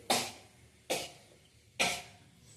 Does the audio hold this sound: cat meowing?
no